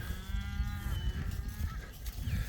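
A cow moos on a farm where cows and bulls are kept side by side, one drawn-out low call close by, then a second shorter moo near the end.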